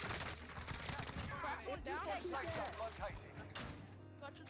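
Rapid gunfire bursts and shots in the Call of Duty Warzone video game sound over a busy mix of in-game effects, with someone talking excitedly on top throughout.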